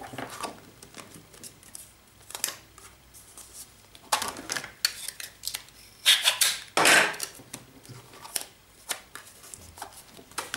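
Post-it tape is pulled and pressed onto a paper card in short, uneven bursts of crinkling, peeling and tapping, close and moderately loud, with brief pauses between them.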